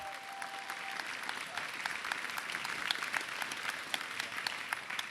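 A large crowd at a robotics competition's grand finals applauds the winners, sustained dense clapping at an even level throughout, with scattered sharper claps standing out and a faint tone at the start.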